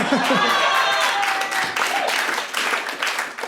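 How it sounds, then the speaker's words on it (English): Comedy club audience breaking into applause during a stand-up set, a steady wash of clapping that runs throughout, with scattered chuckles and a voice mixed in beneath. "You can clap if you want, that's okay."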